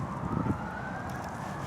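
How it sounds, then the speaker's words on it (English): Emergency vehicle sirens in the middle of a city, heard as a faint, distant steady wail under wind noise. "as you can hear the sirens probably"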